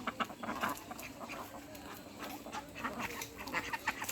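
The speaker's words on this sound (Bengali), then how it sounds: "সবগুলো হাঁস একসাথে এসে জমা হয়েছে" Several ducks quacking together nearby, a busy overlapping chatter of calls with outdoor background noise.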